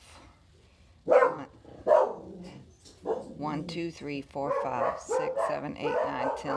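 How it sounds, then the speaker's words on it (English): Dogs give two sharp, close barks in a quiet room, then a person talks steadily while softer yips and whimpers continue underneath. "I very much apologize for my bad dogs."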